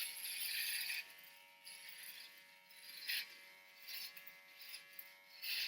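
An electric hair clipper buzzes faintly while shaving a head, a steady thin hum with uneven surges as the blades pass over the scalp, close but quiet.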